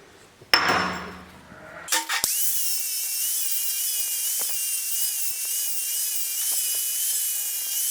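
An angle grinder smooths a freshly notched steel tube: a few sharp metallic knocks and scrapes, then a steady, loud, high-pitched grinding whine that runs close and continuous to the end, with no voices.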